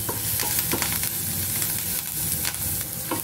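Turmeric, chilli powder and salt being stirred into fried onions in a hot pan for buttermilk rasam, a loud close sizzle broken by repeated scraping strokes of a spoon.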